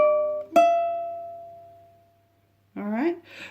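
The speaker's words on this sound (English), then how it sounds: "in context, the hammer on sounds like this" A beginner ukulele string is plucked, then a hammer-on sounds a second ringing note that sustains and slowly fades. A brief pause follows, then someone starts talking.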